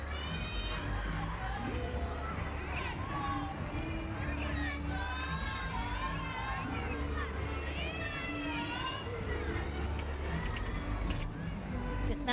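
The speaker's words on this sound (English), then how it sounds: "you can hear the screams from her teammates on the sideline behind her" Gymnastics teammates scream and cheer from the sideline at a 2008 NCAA women's meet, Auburn at Kentucky, shrill voices rising and falling continuously under an arena crowd and commentary.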